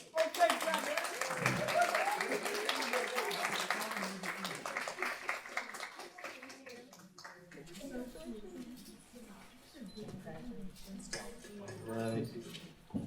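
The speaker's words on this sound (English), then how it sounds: "clap it up for Eaton" Audience members clap for interns at an internship celebration, brisk clapping in the first half thinning into scattered claps, with talking from a few people over the later part.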